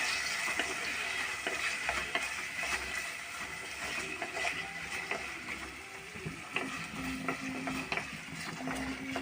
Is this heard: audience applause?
no